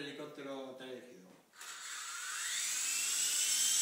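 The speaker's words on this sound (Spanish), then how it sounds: "Vamos a hacer la prueba de mi primer helicóptero que he elegido." A remote-controlled toy helicopter's electric motor spins up after a short burst of talk, settling into a steady high-pitched whine that rises gradually in pitch and holds close and fairly loud.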